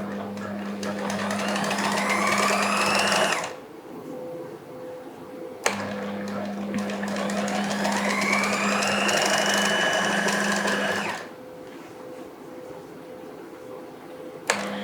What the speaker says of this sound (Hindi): यहाँ से सिलाई लगाते वक्त आपने नीचे की तरफ चले जाना है।